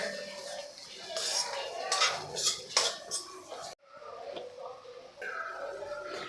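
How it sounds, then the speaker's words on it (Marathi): Clinks and scrapes of a spoon stirring onion-garlic masala and coriander powder as it fries in oil in a pan for sukka chicken, soft irregular metallic taps near the cookware, with a brief quiet gap midway. "आता हे सर्व आपण तेल सुटेपर्यंत छान असं परतून घेऊ।"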